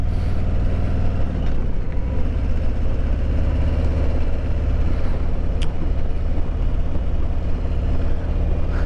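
A Harley-Davidson Road King motorcycle being ridden outdoors, its engine a steady, low, rumbling drone close by throughout, with a brief shift in tone early on and no voices.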